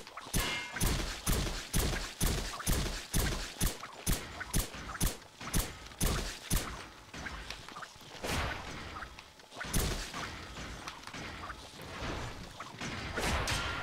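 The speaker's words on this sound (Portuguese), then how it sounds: "Dá uns tiros de pistola aqui." Pistol shots in Resident Evil 4 during a battle with a Verdugo: a rapid string of sharp, evenly spaced gunshots, then a few scattered ones with softer impacts between, fairly quiet overall.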